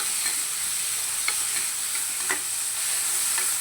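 Onions frying in oil in a pan with a little salt, a steady close hiss and sizzle with occasional light stirring scrapes, no talking.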